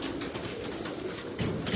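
A pigeon of a prized local breed coos on a rooftop loft, a soft low burbling that runs steadily through the moment and swells louder near the end, with other birds faintly around.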